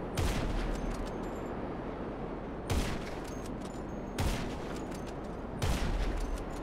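Heavy Sniper Mk II shots fired at a Hydra jet in GTA Online: four loud, sharp cracks spaced about 1.5 seconds apart, each with a booming tail, over steady engine-like rumble.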